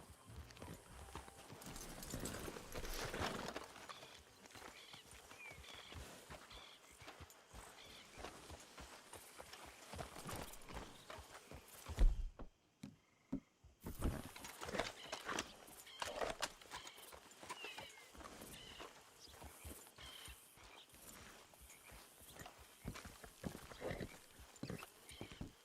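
Horses clip-clopping on the ground in a Western-themed game, steady hoof steps with an occasional neigh, fairly quiet, with brief voices in the scene.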